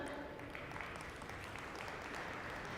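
Indoor conference audience applauding on request, a short, even burst of clapping at moderate level with no talk over it.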